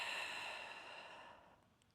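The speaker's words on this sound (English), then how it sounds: "Exhale up." A single long breathy exhale during a Pilates mat exercise, airy and close, fading out over about two seconds with no talking.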